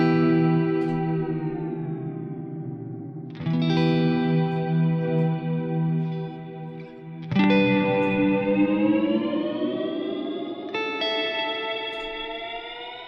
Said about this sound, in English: I'm gonna press the on button just to glide my reverb sound while I'm playing